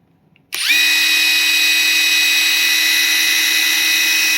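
A SeeSii WH700 3-in-1 impact wrench spins up after a moment of quiet into a loud, steady high-pitched whine with a low hum beneath it, holding constant at higher speed with no talk.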